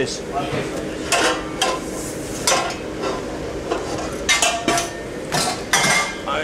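Pots, pans and utensils clatter and clink in irregular bursts in a cargo ship's galley, with some background chatter and kitchen bustle.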